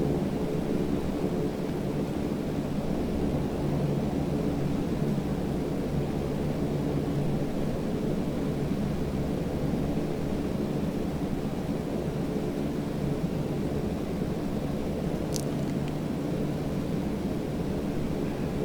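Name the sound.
DASH7 aircraft engine in Microsoft Flight Simulator 2020 video game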